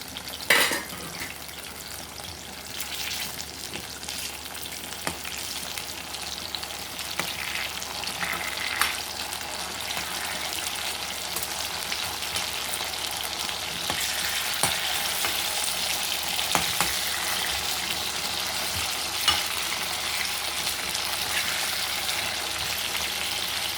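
Eggplant and potato pieces fry in oil in a covered pan over a low gas flame, giving a steady, soft sizzle throughout with a few faint clinks of a pan or utensil.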